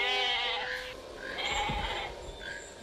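A goat bleats in a scene from the Jurassic Park film, with a few drawn-out, wavering cries close by over a low rumbling background.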